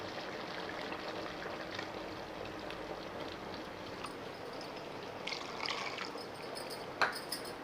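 Ground coconut paste pours steadily into a pot of lentil-ball curry, a soft continuous gurgling pour up close, ending with a small clink.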